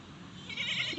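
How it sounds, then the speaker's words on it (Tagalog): A goat bleats once, a short, fairly close wavering cry rising over quiet outdoor background noise. "Ang daming kambing."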